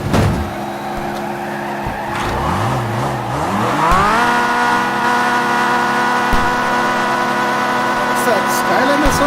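A Nissan Skyline engine in CarX Drift Racing Online revs and wails, its pitch wavering and climbing midway before holding a loud, steady, buzzy high drone, with tire scrub underneath.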